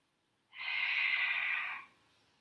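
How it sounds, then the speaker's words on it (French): A single close, airy inhalation during a Pilates exercise, one smooth breath lasting just over a second against near silence. "J'inspire."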